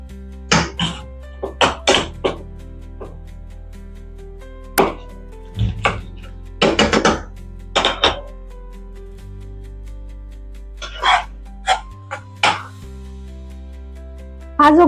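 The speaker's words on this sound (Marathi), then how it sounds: "याला आता आपण गॅसवर ठेवून मॅशरने सर्व हे जे आहे आपला जो भोपळा आहे तो मस्त असा मॅशरने मॅश करून घेणार आहोत" Boiled pumpkin, cooked with its skin on, is mashed with a masher in a pan on a gas stove. Irregular soft thuds and squishes land close by in small bursts with short pauses, and no one talks.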